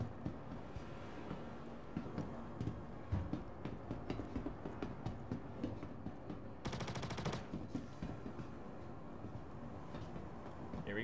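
Laser guns fire in an FPS video game, a quiet rattle of rapid repeating shots over a constant background drone, with a dense burst of fast fire partway through.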